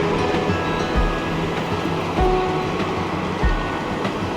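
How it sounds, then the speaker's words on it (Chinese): A retro passenger train in Taiwan passes by with a steady rolling rumble and periodic low clacking thumps from the wheels, heard alone from nearby. "是很复古的火车哎"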